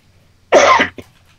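A single sharp, close cough bursts out, followed by a brief softer catch in the throat, then quiet.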